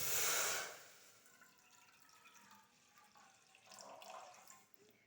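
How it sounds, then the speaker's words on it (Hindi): About a glass of water poured into a cooking pot on a stove while making turnip and chicken salan: a brief loud splashing gush at the start, then faint trickling and dripping sounds. "इसमें तकरीबन हम 1 गिलास पानी का ऐड करेंगे"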